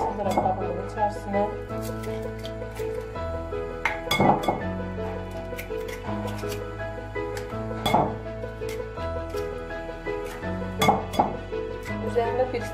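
Eggs are cracked into a bowl for a large cake batter, with sharp clinks of shell against the bowl's rim recurring every few seconds over a steady background hum.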